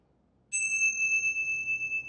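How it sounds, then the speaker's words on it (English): Small bells chimed once at the start of a yoga class, giving a single clear ring that sustains and slowly fades, with a pure steady tone against a quiet room. "I'm going to chime our little bells,"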